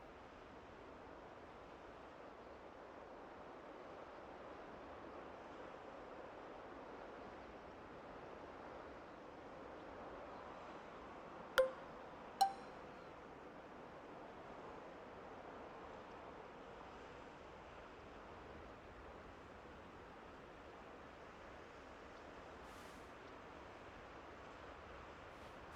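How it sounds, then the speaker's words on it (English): Wind blows across an outdoor golf course as a faint, steady rushing hiss, with two sharp clicks close together partway through. "the wind's blowing on this one"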